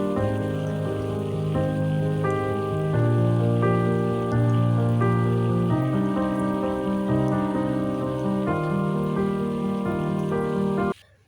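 Steady rain falls without a break, a constant wash of patter over a low hum, ending abruptly.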